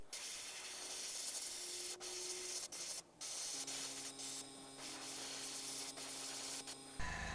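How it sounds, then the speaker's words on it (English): Spray paint hissing from an aerosol can onto a painted frog prop, steady broadband hiss in bursts with short pauses, close and fairly quiet, no talking. "I'm just going to spray this little shape right here"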